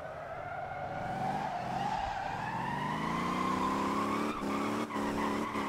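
Car drifting in the Motor Town video game, with a long, loud tire squeal over a rising engine rev that holds steady, then a few brief breaks near the end.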